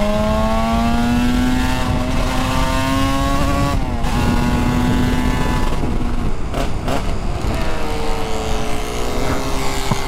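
A Suzuki RG500 two-stroke motorcycle is ridden on a road, its engine droning loud and close with a steady rising pitch, a brief drop as the throttle eases, then climbing again without any talk.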